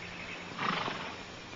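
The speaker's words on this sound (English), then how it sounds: "Beautiful horse." A horse gives a single short whinny, moderately loud and close, against quiet background hiss.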